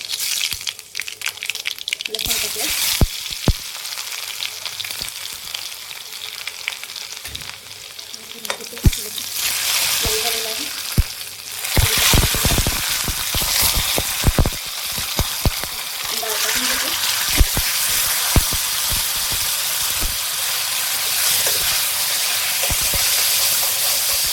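A tadka tempering sizzles hard in a pan for a dry bitter gourd curry, loud, continuous crackling and hissing with bursts of spattering and stirring scrapes throughout.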